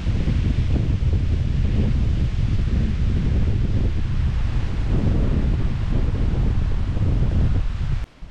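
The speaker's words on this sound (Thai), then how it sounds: "ลมแรงมากเลยนะถ้าลมเสียงลมดังก็ขออภัยนะครับผม" Strong wind buffets the microphone on a cliff edge above a view, a loud continuous low roar gusting steadily for about eight seconds before cutting off abruptly at the end.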